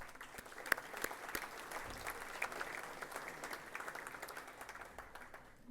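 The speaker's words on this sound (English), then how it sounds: "So let's applaud each other for what we've done in that regard." A chamber of commerce audience applauding, many hands clapping steadily at moderate distance with a few sharper individual claps standing out, fairly quiet overall.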